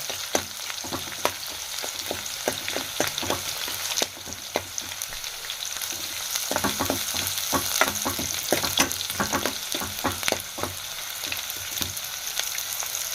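Chopped onions and peanuts fry loudly in a pan: a dense, continuous sizzle broken by frequent clattering scrapes and taps of stirring, close up with no talking.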